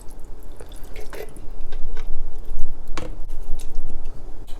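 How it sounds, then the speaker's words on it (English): Canned mackerel pours with its liquid into a pot with potatoes for a kimchi stew, giving a wet, squishy splash and a few drips, fairly close, with no voices. "the mackerel with all of the canned liquid"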